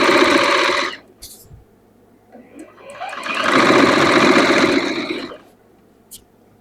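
A sewing machine stitches a curved dress seam in two loud, rapid bursts, one brief and one longer, with a quiet gap between where fabric is handled and a voice speaks briefly.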